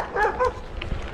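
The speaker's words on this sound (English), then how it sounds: "These dogs may be thinking about coming to the road." Roadside dogs bark at a cyclist near Gainesville, Texas: two quick, fairly close barks followed by a fainter yip, over low outdoor road noise.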